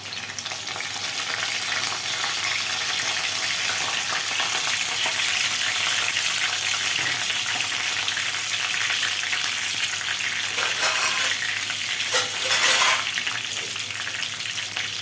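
Curry leaves and green chillies frying in hot oil with mustard seeds and cumin, a loud, dense, steady sizzle with crackling bursts as they are stirred in the pan.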